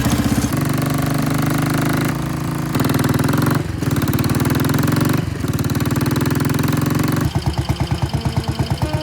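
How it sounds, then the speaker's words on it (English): A 2006 Royal Enfield Bullet 500 single-cylinder motorcycle engine idles with a steady, loping thump, close and loud, its rhythm shifting slightly and quickening near the end. "So this is a 2006 Royal Enfield Bullet 500."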